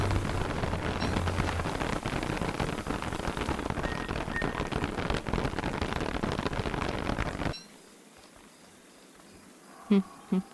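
Steady rain in the video game Don't Starve: Hamlet, a dense hiss and patter that runs loud for about seven and a half seconds, then cuts off abruptly to near silence with a couple of brief clicks at the end.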